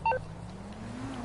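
A short electronic text-message alert from a phone in the GTA 5 video game: a quick two- or three-note chirp at the start, over a low steady engine-like hum.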